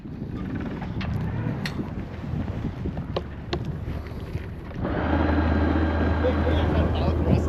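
Bow thruster on a 32-foot sailboat in Denmark, a steady low hum that starts partway through and continues under wind noise and people talking nearby.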